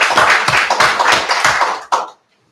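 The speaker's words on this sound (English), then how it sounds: "so if we could, let's give her a round of applause" Audience applause in a school board of education meeting room, a short burst of rapid close claps lasting about two seconds before cutting off abruptly into silence.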